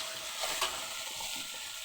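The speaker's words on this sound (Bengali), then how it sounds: "এদিকে টমেটো চাটনি হচ্ছে" Tomato chutney cooks in a pan with a faint, steady sizzle and soft stirring, quiet and close with no talking.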